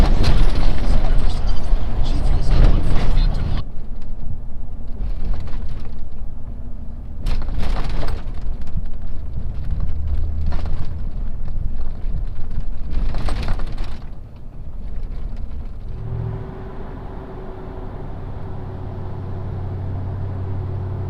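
A Chevrolet Silverado truck with a 3.5-inch level lift and forged upper control arms runs over a pothole-filled Hawaii road, producing repeated loud thumps, clunks and rattles over a rumbling drive.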